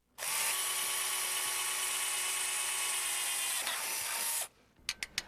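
A power drill bores holes for an awning arm locking mechanism on an RV, whining at a steady high pitch for about four seconds close by, then stopping, followed by a few light taps.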